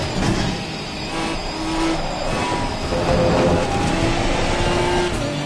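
A race car engine held on throttle through a corner in Assetto Corsa Competizione, a loud continuous roar with tyre and road noise, steady and close, with no talking.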